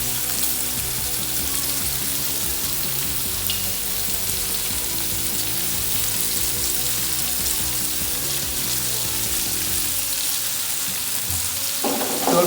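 Finely sliced onions fry in a pan for eggplant curry, giving a steady, dense, loud sizzle that holds evenly throughout, with a brief scrape or stir near the end.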